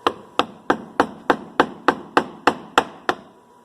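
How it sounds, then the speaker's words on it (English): A mallet drives a chisel into a block of beeswax, eleven sharp evenly spaced knocks about a third of a second apart, each with a short woody ring, close and fairly loud with no talk. "I'm just going to use a mallet and a chisel."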